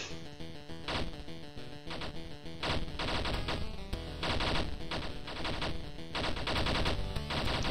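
Rapid bursts of gunfire and bullets from an indie video game, dense machine-gun-like rattling that runs continuously and loud across the whole stretch with no pauses.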